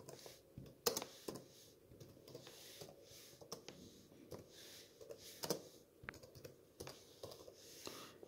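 Someone types a short message on a computer keyboard, producing soft, uneven key clicks with a few sharper taps, faint and close, without speech.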